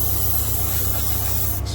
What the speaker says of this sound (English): spray it like this